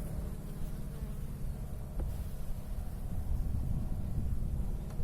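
Honeybees buzz steadily as the second frame of a hive is lifted during a hive inspection, a dense continuous drone with no talking.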